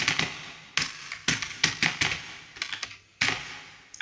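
Typing on a computer keyboard in Microsoft Word, with bursts of close key clicks separated by short pauses, fairly loud, and no voices.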